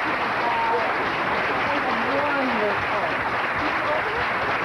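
Sustained, dense applause from an audience after a fifth-grade elementary school production of The Wizard of Oz, loud and even throughout with no break.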